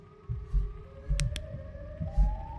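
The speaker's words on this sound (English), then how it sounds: "Oh, I love that siren." Siren Head's eerie siren in a horror video game, a thin rising wail drawn out over deep pulsing thumps like heavy footsteps, with two brief sharp clicks in the middle.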